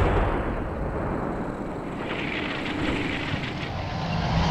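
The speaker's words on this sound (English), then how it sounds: "the howitzer fire mission on the ATGM site is finally coming down, finally being processed" Howitzer artillery fire mission in the Combat Mission Shock Force war game strikes an ATGM site. A steady, dense rumble of distant bombardment is heard, with faint scattered thumps and no talk.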